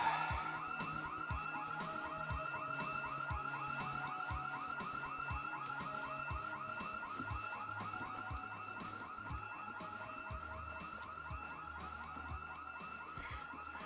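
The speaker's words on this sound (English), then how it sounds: "why are so many house alarms working in the dead of the apocalypse?" Several house alarms wail together in a post-apocalyptic video game, overlapping steady electronic siren tones looping continuously at moderate volume, with sharp intermittent clicks and thuds underneath.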